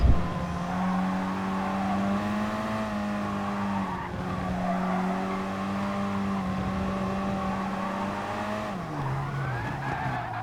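Race car engines and tire squeal in Gran Turismo Sport, a loud sustained engine drone with skidding tires that holds steady pitch and then drops as the car shifts, close and continuous, with no speech.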